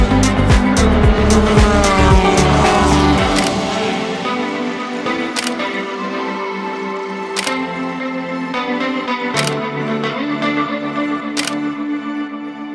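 Race cars on a racing circuit, a loud engine roaring close by at the start, then fading into a steady distant drone, with several sharp camera shutter clicks spaced through it.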